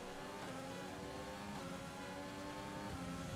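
Formula 1 race cars, a Haas and a McLaren battling closely on track, give a steady, loud engine roar with rising revs throughout, heard alone without voices.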